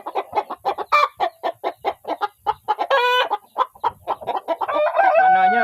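Hens cluck in a rapid, steady run of calls close by, with a rooster crowing in the middle and again near the end, in a coop area where chickens have laid eggs scattered about.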